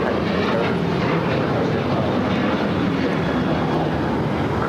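A United Boeing 737-800 takes off at LAX, its jet engines a loud, steady broadband roar that holds for several seconds, close and unbroken.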